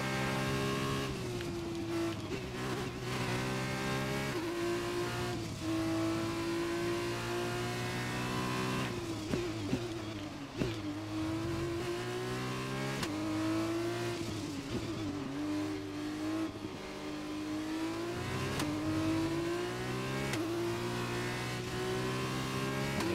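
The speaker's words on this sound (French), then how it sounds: "Et hop, accélération en fond." An F2 race car in the video game F1 2021 accelerates at full throttle, its engine note climbing steadily through the gears with short dips at each shift, loud and sustained throughout.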